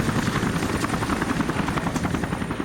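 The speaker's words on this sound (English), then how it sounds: "they have the Apache helicopters flying security and shooting pretty much anything that poses a threat" Apache attack helicopters flying security near a refueling area in Afghanistan, a loud, continuous rotor thrum with rapid blade chop that holds steady throughout, close overhead.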